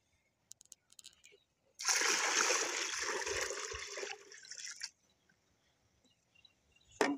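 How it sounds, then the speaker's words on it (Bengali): Liquid fertilizer is poured and mixed for vegetable plants, a splashing gush lasting about three seconds after a few faint taps, then quiet and a final knock. "সবগুলো ঢেলে দিব, ঢেলে মিক্স করে নেব একবারে।"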